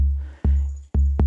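Deep electronic kick-drum hits from a four-voice modular drum synth module thump three times with a short, boomy decay, and a snappy click lands near the end, alone with no voices.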